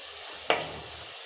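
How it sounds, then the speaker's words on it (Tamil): Onions, tomatoes and curry leaves sauté in a pan for a drumstick and raw mango sambar. A steady frying hiss is broken by one sharp stirring sizzle up close. "சேர்த்துட்டு நல்லா வதக்கி விட்டுருங்க"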